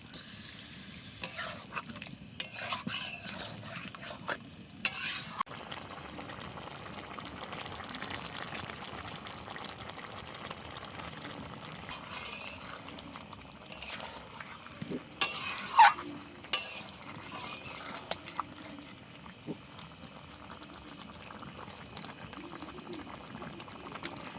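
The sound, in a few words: stir-frying chicken for rezala in a pan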